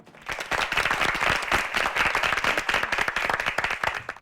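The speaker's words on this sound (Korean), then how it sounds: "박수로 함께해 주시죠." An audience at a high school debate competition breaks into loud, dense applause that swells quickly and holds steady to the end.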